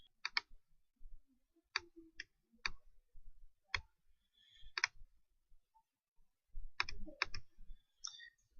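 A computer mouse clicks sharply and close, single and double clicks scattered irregularly across quiet stretches, with faint handling noise between them.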